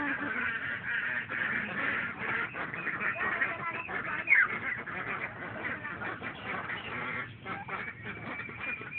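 Farmyard turkeys gobbling in a rural Filipino village, a dense, continuous chorus of bird calls mixed with other poultry, fairly loud and close throughout.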